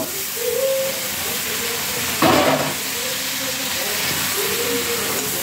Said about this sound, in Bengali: এরপর আমি আগে থেকে সিদ্ধ করে রাখা লতিটা দিয়ে দিব।